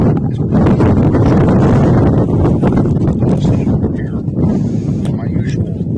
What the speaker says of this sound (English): You can tell by the noise, it is windy up here.